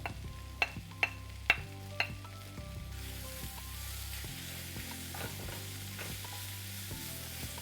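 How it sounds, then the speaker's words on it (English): Jalapenos and garlic browning in a hot pan, a steady sizzle under several sharp utensil taps and clanks early on, then continuous close frying hiss with light stirring. "Jalapenos and garlic. It's all going to go in now. We're going to get that nicely browned off."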